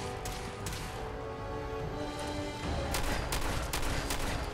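Missiles launched at an enemy in Fallout 4, a dense, continuous barrage of explosive bursts and blasts that swells louder toward the end, with no talk over it.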